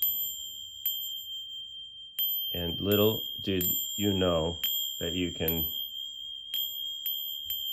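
A brass engine freeze plug struck to ring like a bell chime, producing a few sustained, clear metallic tones that persist throughout, with a person talking over them.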